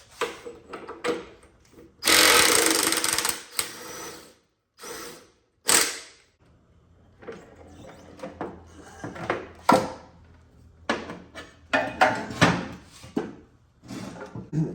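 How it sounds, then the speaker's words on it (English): An Ingersoll Rand 20-volt battery-powered impact wrench works on a Harley Springer chopper in a garage, firing in short bursts with one longer hammering run, interspersed with clanks and handling of metal parts. "I'm going to try this new Ingersoll Rand 20-volt impact that I just picked up"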